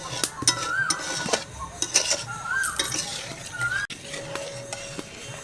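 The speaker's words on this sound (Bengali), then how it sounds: "দুধটা দেওয়ার পর কিছুক্ষণ খুব ভালোভাবে এভাবে নাড়তে থাকবো" Milk being stirred in a metal pot for mishti doi, with repeated scraping and clinking of a spoon against the pan, steady and close, alone without talk.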